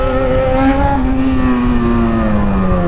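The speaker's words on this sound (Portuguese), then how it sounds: "a motoca tá violenta" A Yamaha XJ6 motorcycle revs hard and steadily on a short street, its engine note loud and close, holding a sustained pitch that sags slightly as it runs on.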